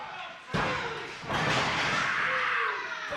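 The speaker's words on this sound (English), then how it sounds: "Slams him down." Wrestler body slammed onto the ring mat at a live wrestling show, two loud heavy impacts about a second apart, each followed by a roaring crowd, with a commentator talking over it.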